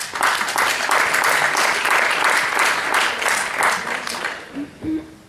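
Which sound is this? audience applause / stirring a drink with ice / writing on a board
audience applause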